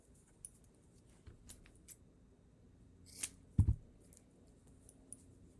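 Scissors snip through material for a homemade jellyfish princess crown, giving a few quiet, close clicks and one sharper cut near the end against a soft, still background.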